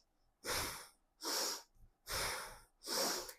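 Four forceful nasal breaths during yoga pranayama, each a sharp, close hissing rush of air in through and out through the nose, evenly spaced with short quiet pauses between.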